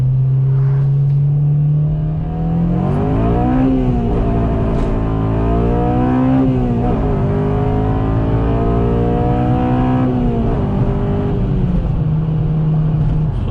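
A 2007 Honda Civic Si with 200k miles accelerates hard in first gear, its engine droning, then climbing in pitch through a few revving surges heard from inside the car, loud and steady.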